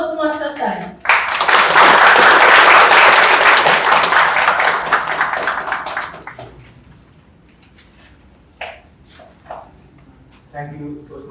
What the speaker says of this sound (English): Let's give a big round of applause for Toastmaster Sai.